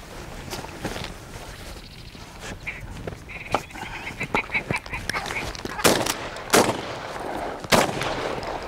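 Shotguns fire during a grouse (ptarmigan) hunt outdoors, several sharp, loud blasts in quick succession near the end, amid rustling and people talking.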